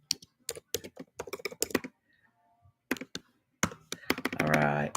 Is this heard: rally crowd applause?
no